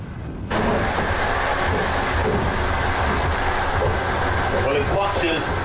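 Continuous loud rumble of a long-distance passenger train running on rails, steady rolling noise throughout with brief higher squeals near the end; faint voices may sit under the noise.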